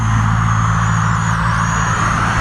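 A car rolls along the road nearby, a steady broad engine and tyre rumble holding at close range through the whole stretch with no voices.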